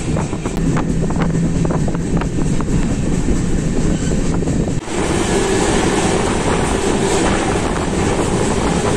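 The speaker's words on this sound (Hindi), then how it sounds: "अडोनी के प्लेटफॉर्म नंबर 1 से हमारी ट्रेन निकल रही है" An express train pulls out of Adoni station platform, heard from aboard a moving train as a loud, continuous rumble of rolling wheels with heavy wind buffeting and a brief jolt midway.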